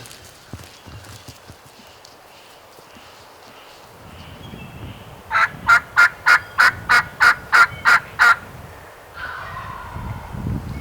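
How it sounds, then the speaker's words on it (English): A wild turkey gobbler gobbles during a spring hunt in Tennessee: one loud, rapid burst of rattling gobble pulses lasting about three seconds, with quiet outdoor ambience and faint rustling before and after. "We had 2 gobblers, one on one side of the hill and one on the other."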